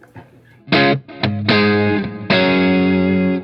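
Electric guitar through a Keeley Mk3 Driver overdrive pedal with extra gain, a few loud crunchy chord hits and sustained ringing notes with gritty saturation.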